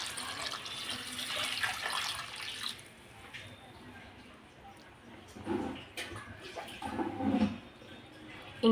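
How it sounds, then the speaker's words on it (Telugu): Water is poured from a lota into a cooking pot for tomato rasam, making faint splashing and trickling in short bursts, with a few quiet knocks of the vessels. "ఈ లోటాతోటి ఫుల్గా పోసేసుకుంటున్నాను నేను నీళ్ళు."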